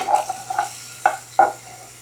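Sausage sizzling in a pot as its fat renders for gumbo, with a few short scraping stirs, close and moderately loud over steady background hum.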